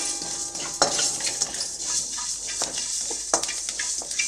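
Cumin and fenugreek seeds roast in a hot pan, with a soft continuous sizzle and crackle broken by several sharp scraping stirs of a spoon against the pan, close and fairly quiet.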